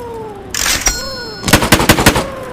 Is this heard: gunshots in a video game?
yes